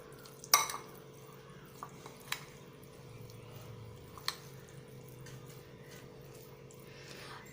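Chicken being stirred with salt and spices in a metal bowl or pot, soft scraping and mixing with a few sharp utensil clinks against the vessel, close and fairly quiet over a steady low background hum.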